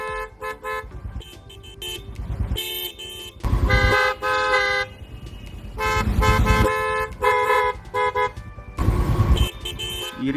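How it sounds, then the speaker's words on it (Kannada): Car and motorcycle horns honk repeatedly from vehicles waiting at a closed railway level-crossing gate, loud overlapping blasts of varied pitch and length sounding one after another with barely any pause. "ಸುಮ್ಮನೆ ಎಲ್ಲರೂ ನಿಂತ್ಕೊಂಡು ಅರ್ಜೆಂಟ್ ಹೋಗ್ಬೇಕಂತೇಳಿ ಹಾರ್ನ್ ಹೊಡಿತಾರೆ."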